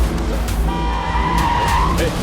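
A car skids and squeals its tires in a Hindi movie chase scene, a loud sustained screech over engine rumble and dramatic background score.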